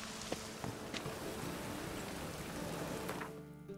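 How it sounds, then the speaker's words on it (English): Steady rain falling in the video game The Witcher 3: Wild Hunt, a soft, even hiss of drops with a few faint patters, fairly quiet and unbroken until it thins out at the very end. "Oh, of course it's raining."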